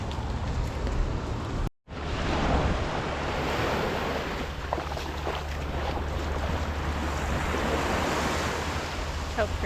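Ocean waves wash steadily onto the beach at Destin, Florida in the early morning, a continuous broadband surf roar with wind buffeting the microphone and a brief dropout near the start.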